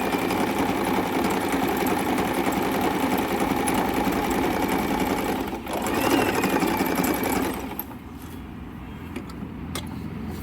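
A Singer M3505 domestic sewing machine stitches steadily at close range with a fast, even motor whir, a brief dip and pause midway, then softer running toward the end; no talk.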